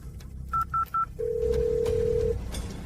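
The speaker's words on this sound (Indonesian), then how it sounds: "cepat telepon Rizky." A telephone number is keyed in with three short, quick dialing beeps, followed by one steady ringing tone lasting about a second, heard clearly over a low background hum.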